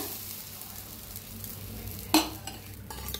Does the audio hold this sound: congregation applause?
no